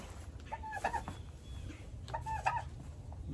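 Olive egger hens clucking near the nesting boxes, two short bursts of throaty calls about a second and a half apart over a steady low background hum.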